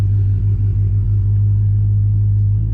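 A Dodge Charger being driven normally on a tune: a deep, steady low rumble from the engine, loud and close, droning evenly throughout with no voices.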